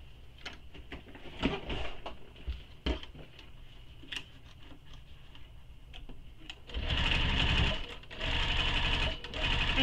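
Sewing machine basting a seam on a sling pack, starting with scattered clicks and handling taps, then running in a loud steady whir near the end, close by.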